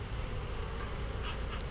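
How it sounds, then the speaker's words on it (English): Honey bees from a spring hive colony, the box entrance set between the middle and upper deeps, hum in a steady, soft continuous buzz with no voices. "I wish I had a lot of bees that looked like that"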